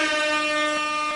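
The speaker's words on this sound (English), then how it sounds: "Air horn, air horn, air horn." A loud, steady air horn blast with a harmonic-rich tone holds continuously and evenly for just over a second, standing alone without any talk over it.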